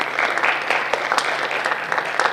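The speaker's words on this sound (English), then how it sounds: "if you guys can give them a round of applause" A crowd claps steadily in a medium-sized room at a National Honor Society induction ceremony, a continuous patter of many hands with a few sharper claps standing out, no voices.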